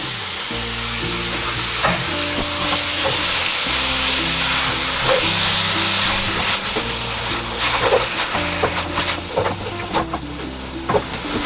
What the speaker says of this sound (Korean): 네, 여기에 미역을 추가로 넣습니다.